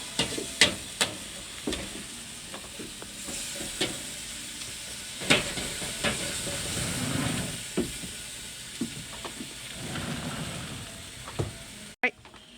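Squid and chicken sear over high heat in a paella pan, a steady sizzling hiss broken by sharp scrapes and taps of a stirring utensil at irregular intervals, close and moderately loud.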